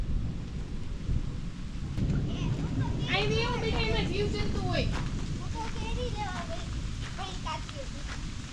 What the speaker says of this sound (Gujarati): વહેલો વરસાદ ચાલુ થઈ ગયો